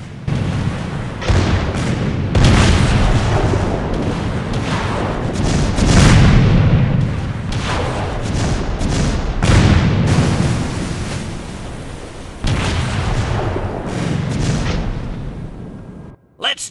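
A naval battle video game featuring a French destroyer, the Fantasque, gives off continuous loud booming explosions and gunfire rumbling under a dense, roaring wash of noise.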